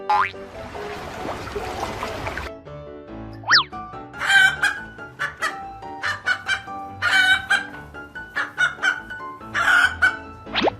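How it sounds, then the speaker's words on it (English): Cartoon chicken sounds in a kids' animated show: a rooster crows, then a series of loud, bright clucks arrives in short bursts alongside springy boing-like effects. "chicken"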